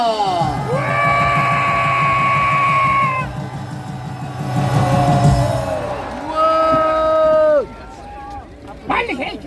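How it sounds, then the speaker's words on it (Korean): A large crowd at a Gwanghwamun rally in Seoul shouts and cheers loudly with raised flags, sustained voiced yells swelling and overlapping for several seconds before dropping off and rising again. "여러분 깃발 들어서 한번 크게 소리 질러 주시기 바랍니다."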